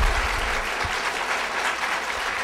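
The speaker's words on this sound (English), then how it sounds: "Give David a round of applause" A crowd applauds steadily, a dense wash of many hands clapping at moderate volume, with no talking.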